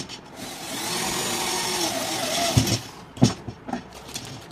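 A power drill whirs steadily into an incubator egg tray, then stops and gives a few short bursts and bumps near the end.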